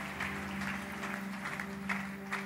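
A church congregation applauding during a worship service, a steady clapping texture from a crowd with brighter bursts of individual claps, moderately distant, with no speech over it.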